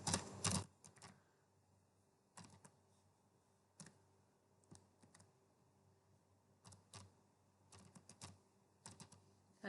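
Computer keyboard being typed on while writing React test code, close and crisp, with a loud flurry of keystrokes at the start and then short clusters of clicks separated by pauses.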